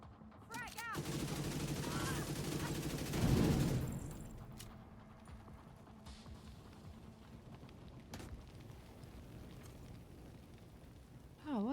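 Frag grenade thrown and exploding in the shooter game The Division 2, amid loud sustained gunfire and a heavy blast peaking early, then quieter rumbling battle ambience with occasional distant shots and a sharp burst at the end.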